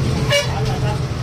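A bus pulls in and gives a short, close horn toot over a low engine rumble, with people talking nearby.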